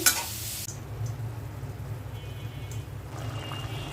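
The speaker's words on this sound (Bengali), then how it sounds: "পেঁপে ভাজি বসিয়ে দিয়েছি" Papaya frying and being stirred in a pan, a steady close sizzle with stirring scrapes, louder at the very start and then settling into a continuous low crackle.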